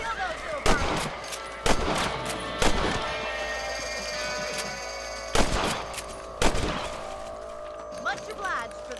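Rifle shots fired at rabbits in the Red Dead Redemption game, several sharp loud cracks at irregular intervals over steady in-game ambience and music, with speech mostly in the background.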